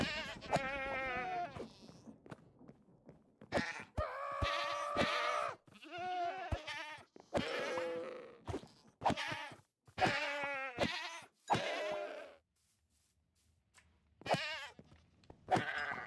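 Minecraft goats bleat repeatedly in loud, wavering calls, several overlapping at times, with short silences between bursts and a buzzing insect-like hum.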